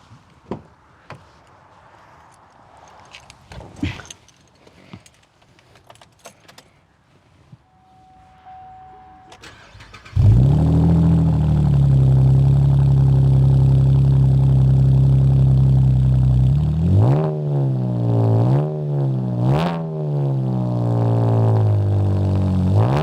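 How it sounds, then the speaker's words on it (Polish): A Chevrolet Camaro engine with a modified exhaust starts up after quiet shuffling, then idles with a deep, throaty rumble before a few sharp revs rise and fall, loud and close. "Ten egzemplarz ma delikatnie poprawioną fabrykę, czyli zmieniony układ wydechowy"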